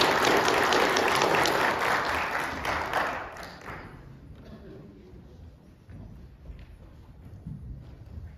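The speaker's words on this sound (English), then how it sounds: "How about a cheer for Brian?" A church congregation at a homecoming service bursts into loud applause and cheering that fades after about four seconds, leaving scattered claps and a few voices in the room.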